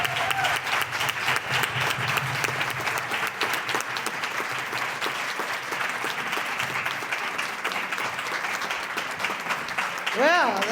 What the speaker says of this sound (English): they got a standing ovation